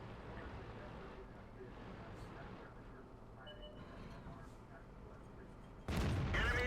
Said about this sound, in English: Nice easy shot into the KV-85